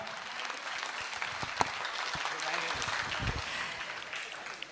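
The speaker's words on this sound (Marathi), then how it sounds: "टाळ्या टाळ्या टाळ्या टाळ्या टाळ्या टाळ्या टाळ्या" Audience applause at a state-level karaoke competition award ceremony, a faint, diffuse wash of clapping with a few louder knocks and thumps nearby and low murmuring underneath.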